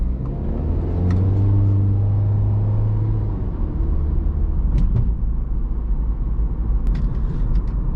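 A 2015 MINI Countryman S ALL4 cruising at around 40 mph, a steady close engine drone mixed with broad tire roar on the road, holding constant throughout with no talking.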